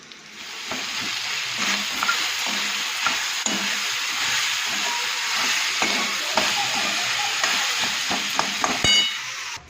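Leftover rice stir-fried in a pan with onion and green chillies, sizzling and frying steadily throughout with occasional spoon scrapes and stirring clicks, no voices.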